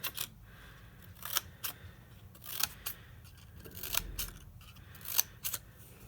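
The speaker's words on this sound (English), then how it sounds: "Fringe scissors," Fringe scissors snip through paper strips for a layered rainbow scrapbook fringe, giving a series of sharp, close cuts at irregular intervals with quiet pauses between.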